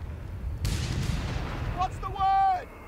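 A mortar team fires in Company of Heroes 3, landing as a deep, booming blast followed by a rumbling tail. A short voice sound is heard near the end.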